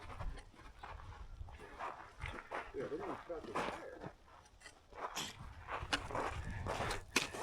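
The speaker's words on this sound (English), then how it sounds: "I love watching dogs play." Dogs play on an overnight hike on Acatenango Volcano in Guatemala, panting and scuffling close by with footsteps on the ground and an occasional bark or whimper.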